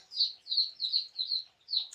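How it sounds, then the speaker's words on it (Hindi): Pet parrots give a series of five or six bright, high chirps in an even rhythm, each short and close, separated by brief silences, with no voices. "ये मेरे तोते हैं"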